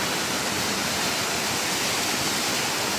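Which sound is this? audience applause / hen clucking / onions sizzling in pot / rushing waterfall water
rushing waterfall water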